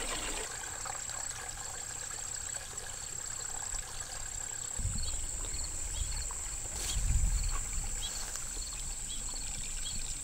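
A cold spring trickles and burbles steadily at a Maryland battlefield, a soft continuous flow with insects buzzing and a high steady whine above it, plus a couple of nearby splashy surges.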